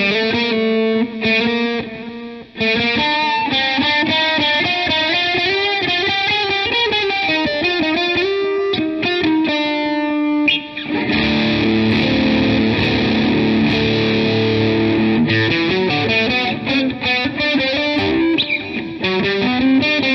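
Electric guitar played through a heavy distortion preset on a NUX MG100 multi-effects unit, with gritty single-note runs giving way to thick, saturated chords ringing continuously and loud.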